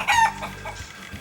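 A short burst of chicken-like clucking, loud at first and then tapering into softer, broken clucks, used in place of a turkey's sound, with nothing else audible.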